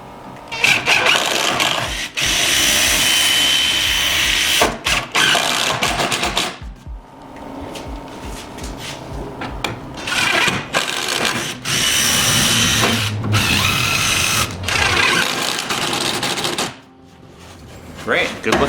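Power drill driving screws into the corner of a wooden raised garden bed, with several long sustained bursts of whirring motor separated by short pauses, fairly loud and close, alternating with quieter stretches.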